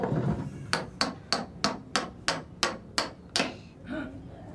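A toddler bangs a toy hammer in a play setting, about nine sharp, evenly spaced knocks in a steady rhythm, close and crisp, then a faint final tap.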